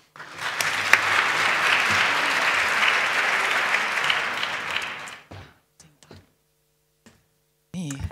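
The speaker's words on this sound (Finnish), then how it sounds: "toivotetaan isojen aplodien kera paikalle tänne lavalle hankejohtaja Maria-Kaisa Aula." An audience at a Finnish child and family services conference opening applauds a speaker onto the stage, a dense sustained clapping for about five seconds that stops abruptly, leaving quiet with a few clicks before a voice begins.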